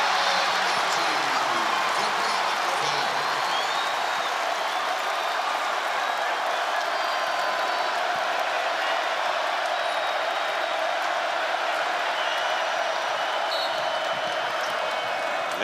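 Basketball arena crowd at a Texas vs Texas A&M game, a loud sustained roar of cheering and clapping that holds steady throughout with no pause.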